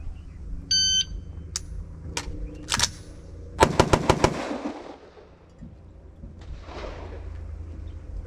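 Rifle shots ring out on an outdoor shooting range: a single crack, a couple of isolated reports, then a rapid burst of about five sharp loud rounds in quick succession, with faint background noise between.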